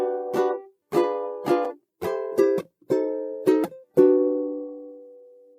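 Solo fingerstyle ukulele arrangement of a song from The Greatest Showman, plucked notes and chords in a lilting rhythm of short phrases, close and clean, ending on a ringing sustained chord with no talking.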